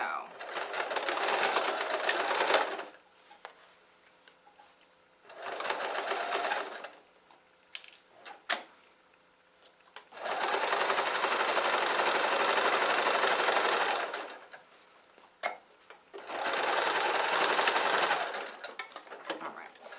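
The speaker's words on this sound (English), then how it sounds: "begin sewing again approximately where I ended over here" A domestic sewing machine stitches binding onto a quilt in four steady bursts of whirring, with short pauses between them, sounding close and fairly loud.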